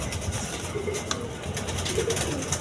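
Pigeons in a pet pigeon collection coo faintly in short, soft notes against a steady, noisy background.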